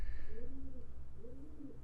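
Pigeons coo softly in two low, rolling phrases, faint against a steady background hum.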